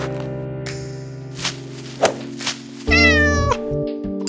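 A house cat lets out a clear, close meow near the end, preceded by a few soft thumps and taps against a steady low background hum.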